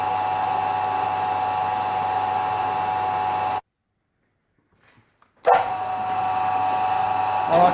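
Drill boring a pilot hole in metal on a machine while making a press jig for BSA Bantam parts, a steady loud whine that runs for several seconds, drops out abruptly, then resumes.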